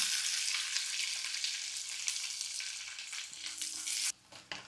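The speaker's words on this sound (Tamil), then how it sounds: "அதுக்கப்புறம் கடலைப்பருப்பு போட்டுக்கலாம் இப்போ வெந்துருச்சு இப்போ வந்து சின்ன வெங்காயம் கருவேப்பிலும் போட்டுக்கலாம்" Shallots, curry leaves and chana dal crackle and sizzle in oil while frying for an elephant foot yam fry, a dense close hiss with a few stirring knocks near the end.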